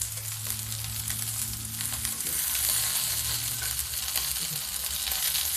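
Okra and small new potatoes fry on a tawa, giving a steady, loud sizzle with occasional stirring scrapes throughout, alone without talk.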